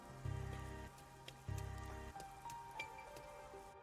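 Steady rain in the video game Rain Code, a soft continuous patter under two short bursts of synthesized in-game musical tones.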